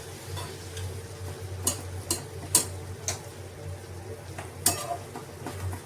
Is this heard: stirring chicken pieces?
yes